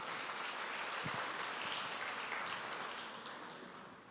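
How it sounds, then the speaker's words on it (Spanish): A church congregation applauds, producing dense, steady clapping that fills the room at an even level and gradually fades toward the end. "Denles un aplauso, por favor."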